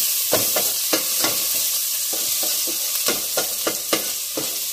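Garlic cloves sizzle in hot oil in a pan while a utensil stirs them, giving a steady frying hiss broken by repeated sharp scraping strokes, close and clear with no talking.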